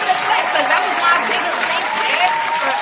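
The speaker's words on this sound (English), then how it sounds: "Give it a clap" A live audience breaks into lively applause mixed with crowd murmur and a few chuckles, loud and continuous for about three seconds, with voices faintly audible underneath.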